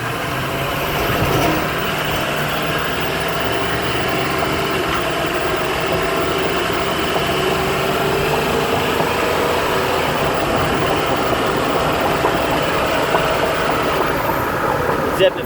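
A 2010 Ford E-450 with 83k miles drones steadily from inside the cab as it gets up to speed, a continuous engine and road hum with slight vibration.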